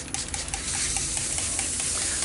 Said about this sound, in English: And we'll give it a quick spray.